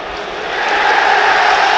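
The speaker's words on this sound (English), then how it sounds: "The big cheer from behind that goal, and the south stand tells you the penalty has been awarded." Football crowd in the south stand behind the goal at a Brighton & Hove Albion versus Newcastle United match, a broad cheer swelling and holding loud, heard from a distance as a wash of massed voices.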